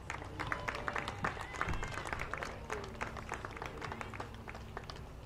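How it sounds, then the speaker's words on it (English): Applause at a high school baseball game as the seniors and their parents are honored, a crowd clapping steadily and at a distance, with background voices and whistles mixed in. "Let's give them a nice round of applause."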